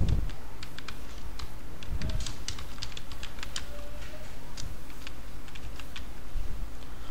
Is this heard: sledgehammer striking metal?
no